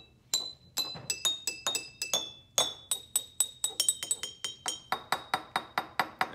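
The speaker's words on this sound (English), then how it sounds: "You want to tap the side. I do want to say we want to tap them gently. They are glass, okay?" Glass jars tuned with water are tapped gently on their sides, producing a quick series of bright, ringing clinks at varied pitches in a lively melodic rhythm, each note decaying briefly, close and clear with no talking.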